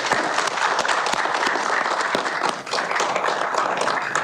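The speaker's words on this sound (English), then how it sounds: "Can we just give them a nice warm round of applause, though, for all of our city workers?" A crowd applauds city workers steadily at a Chicago press briefing on heat wave preparations, dense clapping filling the space at an even level throughout.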